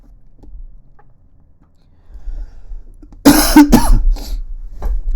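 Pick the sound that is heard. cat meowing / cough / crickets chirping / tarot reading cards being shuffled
cough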